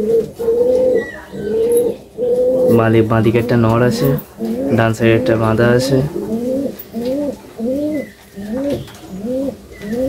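Pigeons, a male and a female, coo nearby in repeated rolling phrases, while someone talks over much of the cooing.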